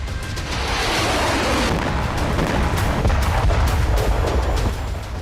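A loud, rumbling blast roar from a ballistic missile explosion near a power plant in Ashkelon fills the clip, sustained and heavy for about five seconds with crackling bursts throughout.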